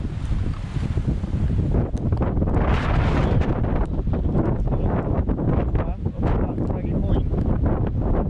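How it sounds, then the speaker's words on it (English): Heavy wind buffets the microphone in loud, rumbling gusts throughout, with faint surf and voices partly buried underneath, on a windy, rainy coastal walk near Boscastle. "Sorry about the wind. It's a bit windy"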